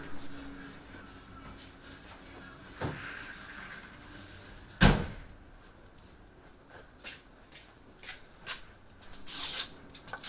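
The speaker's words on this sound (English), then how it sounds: "Let me close this door." A door is pushed shut in a home kitchen during outdoor cooking of Dutch oven baked beans, one sharp thump standing out from a quiet background of faint handling noises.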